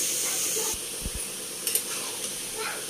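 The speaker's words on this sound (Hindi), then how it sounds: "ଚଲେଇ ଦଉଛି" Whole spices, garlic, cumin, chilli powder and turmeric sizzle softly in a pan while a utensil stirs them, with a few brief scrapes and knocks of the spoon against the metal over the steady low hiss.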